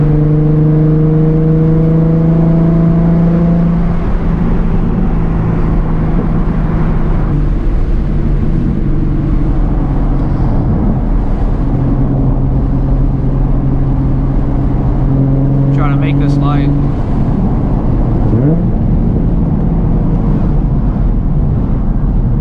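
A high-revving Nissan HR engine climbs toward 8,000 RPM, its loud steady harmonic drone rising and falling in pitch through several rev sweeps, close and alone with no talk.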